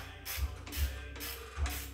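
Wrenching on a Ducati motorcycle with a ratchet, producing a few mechanical clicks and thunks in a slow repeating rhythm, close by with no talking.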